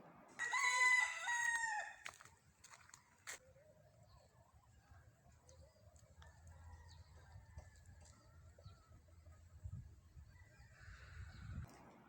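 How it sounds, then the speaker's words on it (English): A rooster crows loudly once at the start in Ghana, followed by quieter background clucking and faint rustling. "The number one thing that shocked and surprised me when we first moved here was the cockerel."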